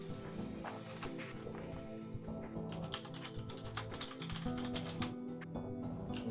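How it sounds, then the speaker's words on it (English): Rapid, uneven clacking of keys on a Mega65 mechanical keyboard, close and continuous, over a faint tonal hum in the background. "Nice mechanical keyboard."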